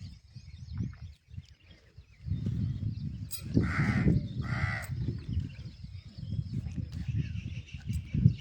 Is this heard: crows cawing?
yes